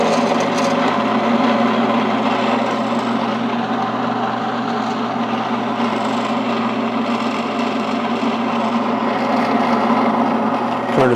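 A Shopsmith woodworking machine runs steadily as its speed is varied through the ranges, giving a loud continuous motor whine and hum with shifting tone, and no voices are heard.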